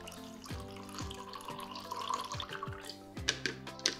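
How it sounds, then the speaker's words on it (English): Brewed coffee poured from a cafetiere into a mug, a close trickling liquid stream with a few clinks and drips, faint and alone. "pour it into your mug or insulated glass"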